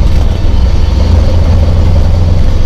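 Toyota AE86 Corolla with individual throttle bodies, about 170 bhp, running at low revs, giving a loud, steady, deep engine drone with no voices.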